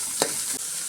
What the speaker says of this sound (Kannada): ಹೀಗೆ ಫ್ರೈ ಮಾಡ್ಕೊಳ್ಳೋಣ.